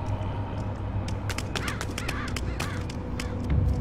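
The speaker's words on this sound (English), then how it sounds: "Cool, the birds." Birds cawing in the stealth video game Mark of the Ninja, several short crow-like calls in quick succession over a steady low game ambience, moderately close and fairly loud.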